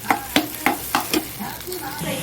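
Potatoes fry with egg, sizzling in a hot pan while a utensil scrapes and stirs in several quick, rhythmic strokes.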